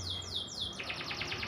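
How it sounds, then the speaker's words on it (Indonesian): A canary sings with fast repeated chirps and twittering trills, close and clear over a faint background hum. "contohnya burung ini dia jadi rajin berkicau"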